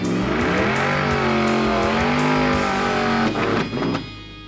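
A car doing a burnout at a burnout contest, its engine roaring at a steady, loud high pitch with tire squeal throughout, then revving down and cutting out near the end.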